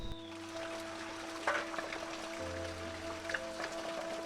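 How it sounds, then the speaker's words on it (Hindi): Steady rain patters and trickles in the background in a hill village in Uttarakhand, with a low hum running underneath and occasional louder drips. "अब हो रही है बारिश"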